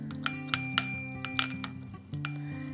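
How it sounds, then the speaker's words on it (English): A small bell rings several times in bright, quick strikes that ring out and overlap, close and clear. "And here's a little bell."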